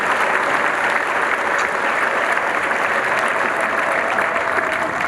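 A church congregation at an evening service breaks into steady, dense applause, loud and sustained throughout, with crowd murmur beneath the clapping.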